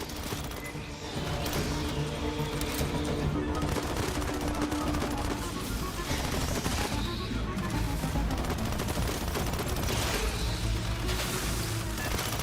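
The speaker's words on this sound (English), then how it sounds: "Must have heard the gunfire." Dense, continuous bursts of rapid gunfire and explosions from the video game Aliens: Fireteam Elite fill the scene, loud and sustained, with faint voices mixed underneath.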